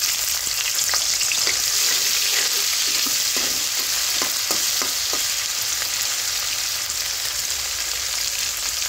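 Dried loitta fish hitting hot oil with three cloves and a bit of cinnamon, a loud steady sizzle and crackle with scattered stirring clicks throughout.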